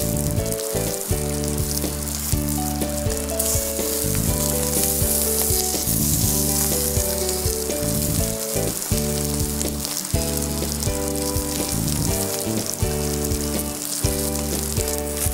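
Sea bream brushed with white wine, garlic and olive oil sizzles on a grill, a loud, steady hiss carried under prominent background music throughout.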